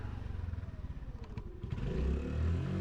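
A 2022 Honda Navi mini motorcycle's small engine drones while riding at about 20 mph, a faint, pulsing mid-pitched hum that swells slightly toward the end, with wind noise and no talking.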